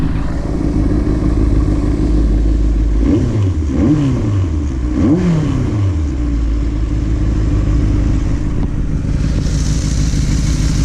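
A Benelli 600i motorcycle engine idles steadily, then revs up sharply three times in quick succession, each rev rising and falling back before settling into a steady idle.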